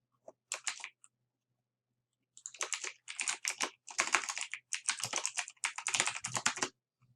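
Typing on a computer keyboard to enter a quiz comment: quick clusters of light, close key clicks in several bursts separated by short pauses, with no talk.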